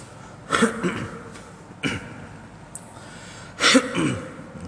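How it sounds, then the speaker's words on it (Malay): Three harsh, throaty coughs close to the microphone, spaced a second or so apart, with quiet pauses between them. "malam ni ada sikit gangguan batuk"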